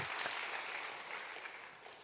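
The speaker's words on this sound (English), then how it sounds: "Can we give Emma a huge round of applause for putting this together?" Audience applause at a charity gala for rhinos, heard as a faint, steady, even patter of many hands clapping throughout, with no voices over it.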